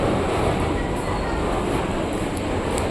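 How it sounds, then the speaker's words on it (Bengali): A train pulls into a railway station on a hot day, its steady low rumble and rolling wagon noise continuous and fairly loud, with faint wheel squeal above. "এবার ট্রেন চলে এসছে"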